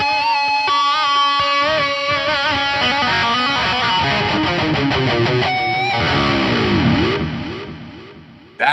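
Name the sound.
guitar with TC Electronic delay effect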